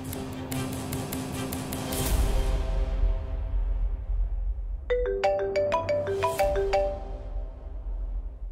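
A phone ringtone chimes during a call, a bright melodic ring followed by a second ringing phrase of clear repeated tones over a low background rumble, with no talk.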